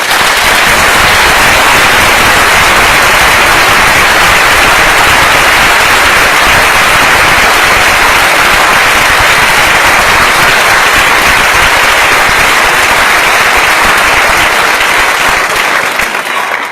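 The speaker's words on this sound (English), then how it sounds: "Let's give them a round of applause." Loud, sustained applause from a crowd at an interfaith vigil for the Tree of Life Synagogue, dense clapping rolling on steadily without a break.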